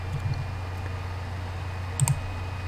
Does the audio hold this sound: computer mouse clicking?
yes